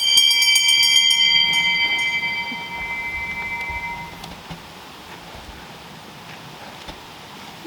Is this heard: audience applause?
no